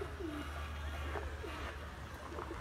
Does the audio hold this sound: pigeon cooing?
yes